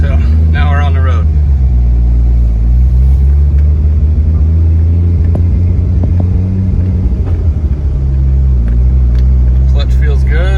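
A Toyota Supra rumbles along the road from inside the cabin, a loud steady low engine drone with brief voices and small knocks over it.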